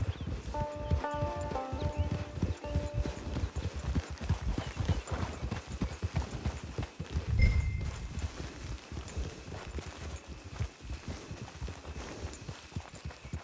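Horse hooves from the video game Red Dead Online clip-clop steadily at a walking pace on hard ground, with a soft ambient backdrop and a brief low rumble midway.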